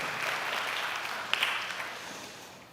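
A church congregation applauding during an Easter service, a steady wash of clapping from many hands that holds evenly for a few seconds and slowly fades.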